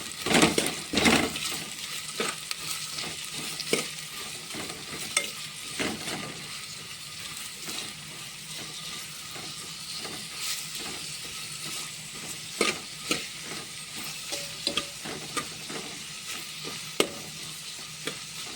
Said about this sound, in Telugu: మంచిగా నూనెలో గోలినాక మటన్ వేసుకోవాలి.